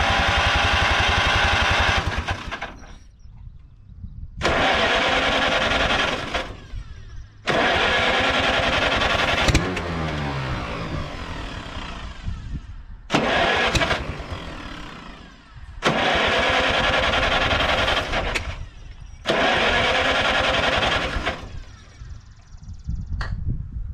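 An old Farmall tractor engine on an abandoned farm cranks and fires in several loud, roaring bursts, each running a few seconds before cutting out, with brief pauses between.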